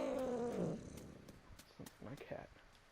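A cat purrs in the video game What Remains of Edith Finch, a low rumbling tone in the first second that then fades beneath scattered quieter game sounds.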